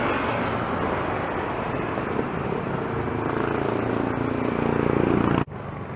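Light road traffic in Novaliches heard from a bicycle, a continuous broadband whoosh of wind and passing vehicles that cuts off abruptly near the end.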